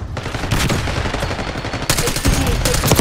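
Dense, continuous video-game gunfire in a Babylon beta match, a steady crackle of rapid shots that swells louder and busier in the second half, close and sustained over the full stretch.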